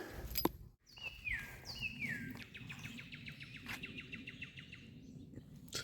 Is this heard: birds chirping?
yes